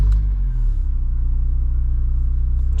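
A warm Honda S2000 engine fires up and settles into a close, steady idle with an even low rhythmic rumble throughout.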